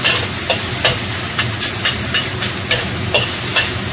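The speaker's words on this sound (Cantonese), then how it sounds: "佢煎香咗啲肉之後" Meat sizzles loudly in a hot pan for fish-fragrant eggplant, a continuous close-up frying hiss broken by regular scraping stirs of a utensil, with no talking.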